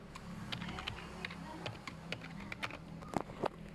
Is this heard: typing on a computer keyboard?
yes